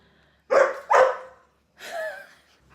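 A dog indoors gives two sharp, close barks in quick succession, then a longer whining, yelping bark after a short pause.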